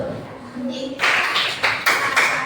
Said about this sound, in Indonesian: Tepuk tangan Indonesia. Tepuk salut.